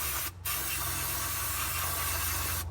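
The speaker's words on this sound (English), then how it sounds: "So I usually blow it off, spray it a few times to get it clean." A steady, close hiss of compressed spray cleaning gear oil off a metal part in a garage, running almost continuously with one brief pause near the start.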